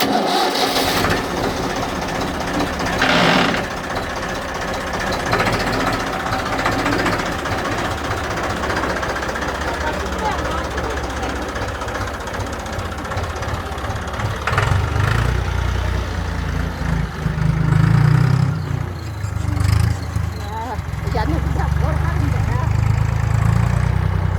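A farm tractor driven by an elderly woman runs steadily throughout, its diesel engine chugging loud and close with a constant low rumble and rattling knock, getting heavier toward the end.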